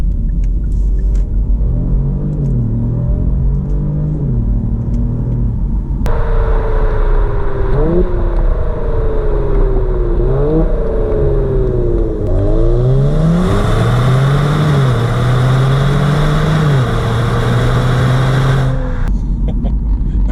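Twin-turbo Kia Stinger GT1 accelerating hard, its engine note rising through gears in repeated sweeping climbs with shift breaks, a steady loud rumble from inside the car and no talking.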